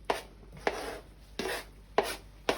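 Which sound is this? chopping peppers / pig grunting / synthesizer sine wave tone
chopping peppers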